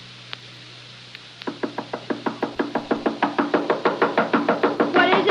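A rapid series of knocks on a door, a radio drama sound effect, starting with a few scattered raps and then building into steady, insistent pounding that grows louder and more urgent, with no voices.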